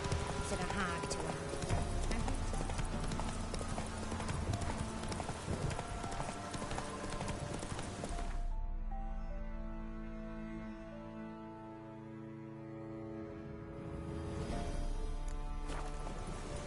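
Roach the horse in The Witcher 3 trots with steady, rhythmic clip-clop hoofbeats under a loud musical score that drops away midway, the hooves continuing close and clear.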